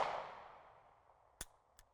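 A pistol loaded with a snap cap is dry-fired during a trigger-press drill, giving a few brief, faint metallic clicks after a fading ringing tone.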